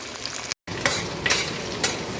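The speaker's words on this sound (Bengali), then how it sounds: "এই মশলাটা একটু ভাজা হলে, ফোড়নটা একটু ভাজা হলে তারপরে বাকি জিনিসগুলো অ্যাড করা হবে" Whole-spice tempering fries in hot oil for a banana flower curry, a close crackling sizzle broken by a brief gap and a few sharper scraping stirs, no voices.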